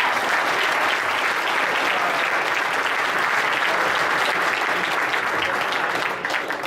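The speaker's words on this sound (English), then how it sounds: "let's give him a round of applause." A large audience claps loudly and continuously for Mayor Daley, a thick, even wash of applause that holds steady and dips slightly at the very end.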